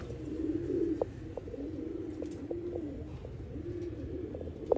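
Pigeons coo in a loft, low throaty rolling calls repeating in overlapping bursts, close and clear against a soft background murmur of other birds.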